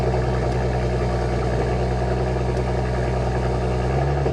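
Stock exhaust of a Porsche Cayenne 3.0 E-Hybrid Coupe idling steadily, a low, even engine rumble held close and constant without any talk.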